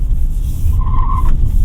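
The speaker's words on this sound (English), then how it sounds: "There's some wheel spin there." A BYD Atto 3 electric car spins its wheels, producing a brief sharp tire squeal over a low rumbling road and cabin noise, loud and close, with no engine roar.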